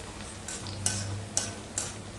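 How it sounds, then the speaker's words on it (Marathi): Chillies fry in a little oil for poha chivda, giving a soft, low sizzle with a few light clicks of a spoon against the pan. "थोड्याशा तेलामध्ये ह्या मिरच्या आपल्याला छान अशा तळून घ्यायच्या"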